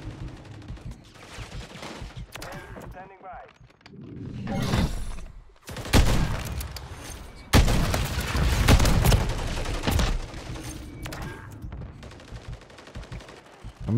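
Gunfire in Call of Duty MW3 multiplayer, with sniper and MCW rifle fire: loud bursts of shots and booming blasts come in dense clusters, separated by quieter stretches of game ambience.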